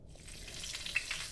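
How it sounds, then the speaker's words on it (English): Ghee sizzling in a hot pan while cooking uthapam in the game Venba, a soft, steady frying hiss with faint crackles, heard alone. "Okay, so you want to add the ghee."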